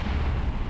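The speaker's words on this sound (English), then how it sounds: "that explosion is too close" A deep, rumbling explosion from the video game Kerbal Space Program, a single heavy low boom filling the short moment with no voices.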